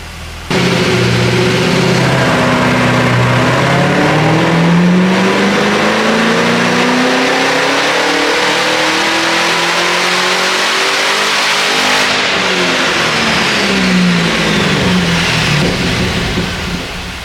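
A 2016 HSV GTS engine revs hard on a hub dyno, a loud sustained roar climbing and falling in pitch, then swelling again before easing off.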